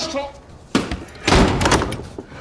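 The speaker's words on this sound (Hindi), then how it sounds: "दरवाजा बंद करो।" A door is slammed shut in a Bollywood movie scene, a sharp bang followed by a heavier rattling thud, with a person speaking briefly before it.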